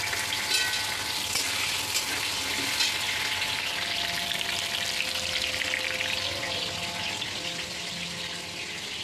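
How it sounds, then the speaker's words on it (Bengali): Potato pieces for a meat curry fry in hot oil, a continuous moderately quiet crackling sizzle with faint stirring scrapes throughout, and no one speaking. "তো মাংসের আলুটা এবার আমি ভেজে নেব।"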